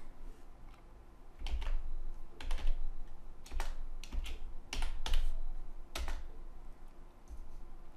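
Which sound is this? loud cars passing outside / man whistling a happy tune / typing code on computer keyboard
typing code on computer keyboard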